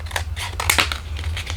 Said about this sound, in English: let me grab scissors, and I'm going to cut across here